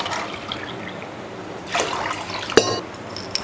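Water is poured into a pressure cooker holding rice, a close, splashy trickling stream that swells partway through and ends with a light metallic knock.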